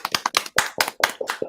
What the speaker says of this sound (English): if we just applaud all together now